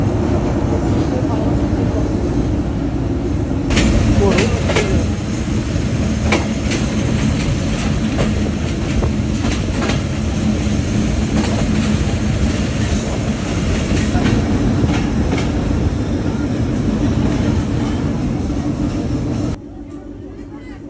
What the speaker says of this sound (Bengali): এই মুহূর্তে আমাদের ট্রেন এসে দাঁড়ালো দৌলতপুর স্টেশনে